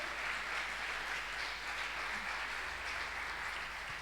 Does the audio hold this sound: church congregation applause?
yes